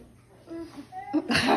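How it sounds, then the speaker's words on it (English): Sneeze from a person during a prank, a sharp burst at the end after some throat sounds, close and loud, with voices mixed in. "did you sneeze on me?"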